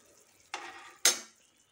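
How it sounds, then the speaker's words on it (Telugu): Cashews and almonds frying in a pan produce two short, separate bursts of sizzling or scraping. The second burst is louder and sharper, and both are set against near silence. "జీడిపప్పు, బాదం పప్పు ఫ్రై చేసుకుందాం."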